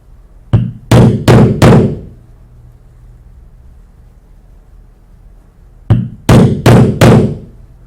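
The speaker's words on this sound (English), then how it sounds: "I will punch it with a fouling chisel all the way through both thicknesses of leather." A fouling chisel is struck through two thicknesses of leather: a light tap followed by three sharp, solid mallet blows, then a pause and the same four-hit pattern again, close and loud in a quiet room.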